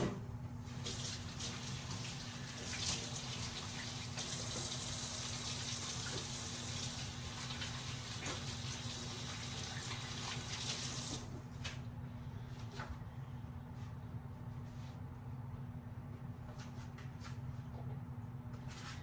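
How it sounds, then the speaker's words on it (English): Tap water runs steadily into a sink while hands are washed, a close, continuous gush for about eleven seconds before it quietens into softer dripping and handling sounds. "I'm going to wash my hands."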